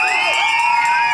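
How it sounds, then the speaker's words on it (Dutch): A crowd of parents and children screams together at an outdoor street show in an amusement park, a loud, continuous high-pitched roar that lasts throughout. "En kunnen de papa's en mama's, jongens en meisjes hier ook een beetje gillen?"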